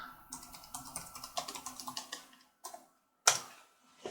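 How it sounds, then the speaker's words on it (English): Keys on a Lenovo ThinkPad T540p laptop are tapped in a quick run of light clicks, followed by a pause and a single sharper keystroke, close and quiet. "we'll type list disk"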